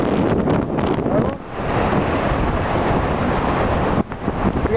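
Strong wind blows across the microphone at Vromos beach, a steady loud roar with gusty buffeting and faint surf beneath, dipping briefly twice.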